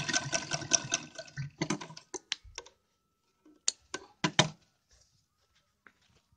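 A sewing machine stitches a lehenga in short, close bursts of rapid whirring and ticking, separated by brief pauses and a longer quiet gap in the middle.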